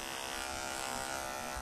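A beard trimmer running without a guard as it thins a moustache, giving a steady, close electric buzz that continues evenly throughout with no talking.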